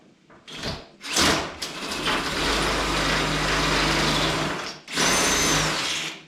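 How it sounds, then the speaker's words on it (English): A power drill fitted with a standard drywall bit bores into tile, a loud whirring grind that starts and stops in short bursts before a sustained run, close by, with no talk. "pre-drill this because I'm going into my tile"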